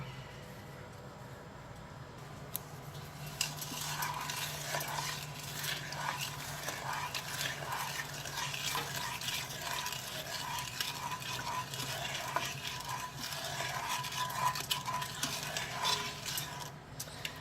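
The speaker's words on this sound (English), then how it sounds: "now you can give this a little stir" A utensil scrapes and swirls steadily through thick caramel in a pot, a continuous soft scraping with faint bubbling underneath and no talking.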